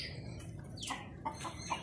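Chickens in a backyard coop give a few soft, scattered clucks, quiet and fairly close, with faint rustling between the calls.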